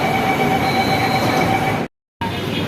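An Ahmedabad metro train runs along the track, a steady loud hum with tonal whine and wheel squeal, interrupted by a brief dead gap before the same droning ride resumes.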